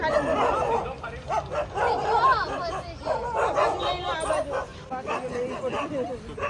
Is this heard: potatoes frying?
no